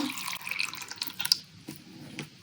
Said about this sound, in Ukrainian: я принесла вже склянку з водою, наливаю водичку